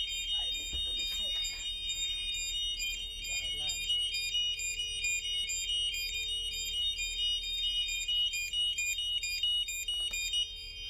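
Aircraft GPS and gyro panel caution alarm, a continuous high repeating electronic tone pattern beeping steadily throughout, with a person speaking briefly under it.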